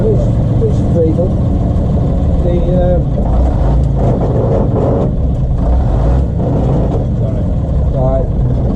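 An AEC Regal bus engine idles and runs steadily, a loud low rumble filling the scene while people talk nearby over it.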